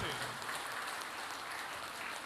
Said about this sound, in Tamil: மிகப்பெரிய கைத்தட்டலை